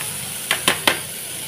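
Fried okra taken off a hot pan, a soft background sizzle broken by three quick spatula scrapes against the pan, close and distinct.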